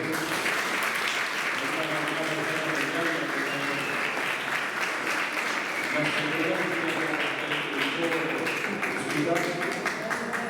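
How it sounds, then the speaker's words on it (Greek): Steady audience applause for an honoured guest at a Greek football club's pie-cutting ceremony, dense clapping sustained throughout with murmuring voices mixed underneath. "Ένα χειροκρότημα για τον κύριο Σκλαβούνο"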